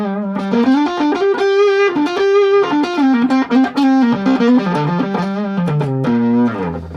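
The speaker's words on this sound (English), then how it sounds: "turn on this Kingsley Minstrel Tube Overdrive" Hollow body electric guitar through a Kingsley Minstrel Tube Overdrive into an already broken-up amp, playing loud, sustained gritty lead lines with bends and held notes, close and alone.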